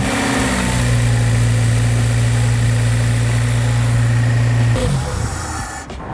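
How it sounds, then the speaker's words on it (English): A Honda Civic Type R EP3 engine with a newly installed fuel rail turns over and settles into a loud, steady idle with a deep hum close by, then briefly shifts near the end. "let's get an engine start and pray and hope"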